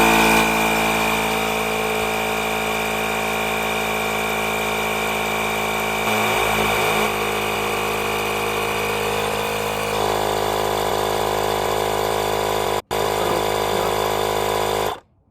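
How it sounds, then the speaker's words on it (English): A Milwaukee M12 cordless inflator pumps up a car tire, a loud, steady electric motor drone with a buzzing tone that runs continuously, dips briefly once, then cuts off at the end. "I'm going to push inflate."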